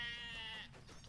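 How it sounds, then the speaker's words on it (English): A sheep in the video game Lord of the Rings Online gives a single close, wavering bleat that fades into quiet background noise. "It's a fast little sheep."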